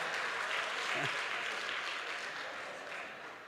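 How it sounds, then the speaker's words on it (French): Church congregation at a Sunday service applauding Grâce, leader of the music group, a broad, dense burst of clapping that holds steady and then tapers slightly, with no speech over it. "Acclamez grâce, s'il te plaît"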